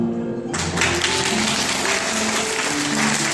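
Wedding guests at a Korean wedding hall break into applause, a dense, steady clapping that starts abruptly and carries on evenly at moderate volume with no talk over it.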